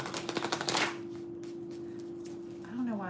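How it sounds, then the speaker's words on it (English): Tarot cards shuffled by hand during a reading, a quick run of crisp riffling clicks and flutters that ends abruptly, followed by a steady tone and brief faint voice sounds. "I don't know why I feel like I gotta shuffle every time."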